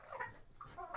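A dog whimpering and crying while playing: faint, high, wavering whines in short bursts repeating over a second, quiet and a little distant, with no talk.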